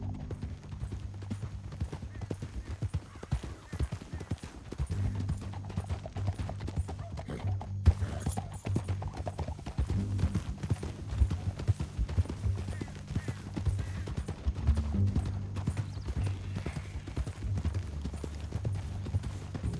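Horse hooves clip-clop steadily at a trot in Red Dead Redemption 2, with occasional whinnies and a low rumble of movement, loud and continuous throughout, with faint voices mixed in.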